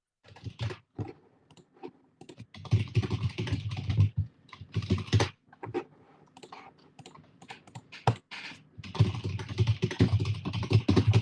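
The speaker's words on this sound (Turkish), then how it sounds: "Kaç parmak yazıyorsun lan?" Typing on a computer keyboard, with rapid bursts of key clatter broken by brief pauses, loud and close, no speech.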